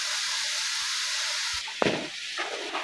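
Chopped tomatoes and green chillies sizzling in a hot pan, a steady loud hiss throughout, with a few clatters of the spoon near the end.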